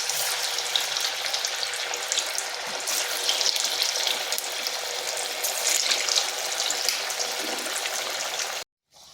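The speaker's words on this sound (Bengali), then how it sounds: "এখানে কড়াইতে তেল গরম হতে দিয়েছি, গরম হয়ে গেছে। এরপর এগুলো দিয়ে দিচ্ছি, এগুলোকে ভেজে নিচ্ছি।" Carrot and semolina snack pieces fry in hot oil in a wok, a close, steady crackling sizzle running without a break before cutting off at the end, with no talk.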